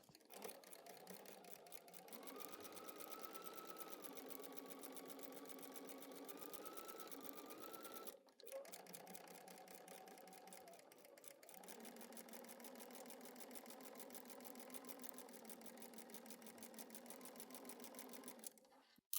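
A sewing machine stitches quilt fabric in long rapid, even runs, with a brief pause and restart near eight seconds and another short break later, fairly quiet and close.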